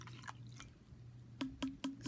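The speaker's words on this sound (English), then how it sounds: "Let's pour it in here" Snapple Air and Rain drinks are poured together into a glass. Faint, quiet liquid sounds end in a short run of four soft, rhythmic glugs, with no talking.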